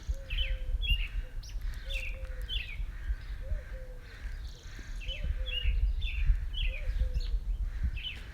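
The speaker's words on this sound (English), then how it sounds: "So you can hear a dove in the background and other birds" A dove's low, repeated cooing sounds steadily at a measured pace while smaller birds chirp in short high bursts around it, all outdoors and fairly close.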